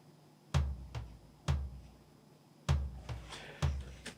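Amapiano tom drum sample in FL Studio: six soft, low, booming tom hits in an irregular pattern, fairly quiet, each decaying quickly over near silence.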